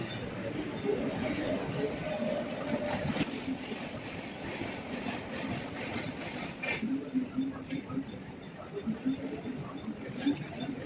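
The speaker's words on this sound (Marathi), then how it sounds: "AC ट्रेन आले आता" An AC local train pulls into Virar station, its steady rumble and rhythmic wheel clatter fairly faint against the ambient noise of a crowded platform.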